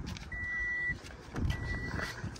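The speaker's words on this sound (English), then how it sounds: "I do hear some beeping." Two electronic beeps from a car with a dead battery at a Copart auction, a longer steady tone followed by a shorter one, over low engine rumble.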